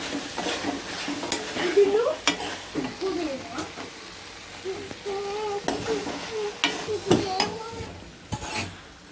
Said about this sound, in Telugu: ఇలా ఒకసారి మిక్స్ చేసి ఒక 5 minutes మూత పెట్టేయండి.